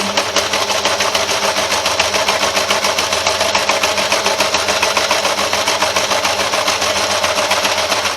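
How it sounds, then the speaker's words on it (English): A serger running steadily as it stitches off the end of a fabric bag, a continuous fast mechanical whir with a rapid even rhythm, close and loud, no talking. "Now, having got past, the end of my fabric, what I need to do now is to just come off and bring the loop underneath to cut it."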